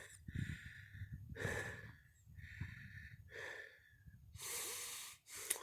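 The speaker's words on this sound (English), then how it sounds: "Sorry I'm breathing so hard here, but that was a little bit of a climb to get up here." A person breathes heavily after a hill climb in a hot, craggy desert wash: repeated loud, close gasping breaths and snorts with a faint wind-like hiss behind them.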